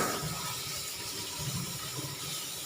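Water running steadily from a tap while fish is washed after soaking in salt water, a continuous close splashing gush with faint clatter, no talk.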